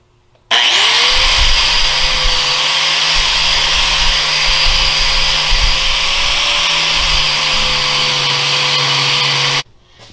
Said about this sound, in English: if you have a grinder like this with one of these grinding wheels,